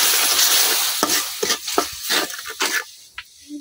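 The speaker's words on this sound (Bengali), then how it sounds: "এখন দিয়ে দেব অল্প পানি।" A little water poured into frying turmeric, chili and salt with onion and garlic in a wok, giving a burst of hissing sizzle followed by repeated close stirring scrapes and softer sizzling.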